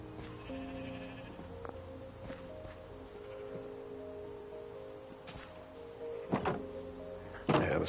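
Sheep in Minecraft bleat several times against a quiet backdrop, with soft footstep thuds and a louder burst of rustling near the end.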